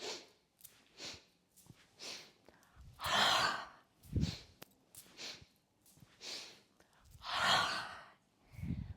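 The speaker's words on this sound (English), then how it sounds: "you exhale all the air out through your mouth and fold over the body" Breath of Joy exercise: quiet, rhythmic inhales are twice broken by a long, forceful exhale through the mouth, loud and close, each followed by more soft breaths, with no talking.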